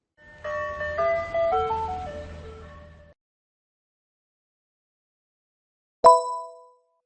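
An ice cream truck jingle from a kids' vehicle video game plays as a short tinkling melody for about three seconds, then stops. After a pause of silence a single bright chime sounds.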